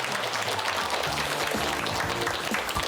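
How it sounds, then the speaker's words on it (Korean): A studio audience at a Korean televised lecture on menopause claps warmly and continuously, a close, even wash of many hands with no pause. "2주간에 걸쳐서 또 멋진 강의해 주신 우리 조군자 박사님께 큰 박수 보내주십시오"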